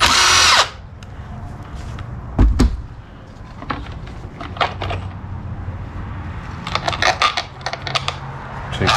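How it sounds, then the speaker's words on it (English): A driver with a T25 bit spins out screws on a 42RE transmission filter during a teardown, with a brief whir at the start followed by scattered clicks and metallic taps as parts are handled nearby. "Now grab your T25 and let's get this filter out of the way."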